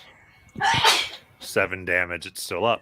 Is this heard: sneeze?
yes